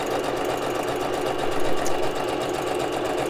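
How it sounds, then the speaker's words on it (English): Sewing machine stitching the inside flap edges of a fabric piece, a steady, even mechanical whir running at moderate speed without pause. "So I'm just going to sew the inside right and the inside left flap."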